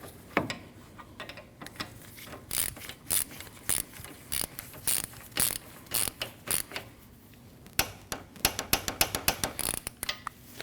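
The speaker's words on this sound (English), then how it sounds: "And those 2 nuts get torqued down to 159 inch-pounds" A ratchet wrench clicks in quick bursts while torquing down two nuts on a 2013-2019 Ford Escape dual radiator and condenser fan assembly, close and crisp, with short pauses between strokes.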